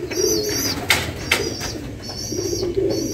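Several low, rolling coos from field pigeons sound near and fairly loud, with a couple of short sharp knocks or wing flicks between the calls.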